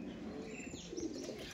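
Faint, low murmuring coos from Kala Sabuj pigeons fill a loft, with occasional light chirps and no talking.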